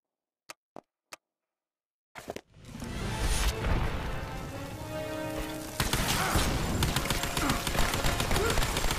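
Gunfire in Lara Croft and the Temple of Osiris: a few sharp isolated clicks, then a loud, dense, sustained burst of rapid shots that intensifies further near the end.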